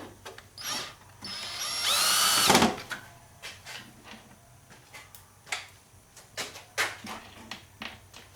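Power drill driving self-tapping screws into a plastic RC dozer model during assembly, heard as one long, loud, high whirring burst near the start, followed by shorter intermittent clicks and light handling taps.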